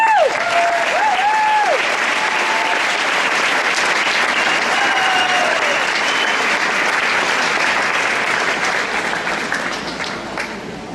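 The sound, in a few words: audience applause for award winner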